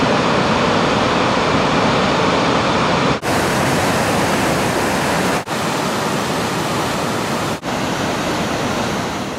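Gullfoss waterfall in Iceland roars as a loud, continuous broadband rush of falling water, steady throughout with a few brief dips and no voices.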